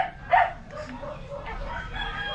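Dekalb Brown laying hens in a poultry house: a close cluck rises near the start, then softer clucking and murmuring fowl sounds continue over a steady low background hum.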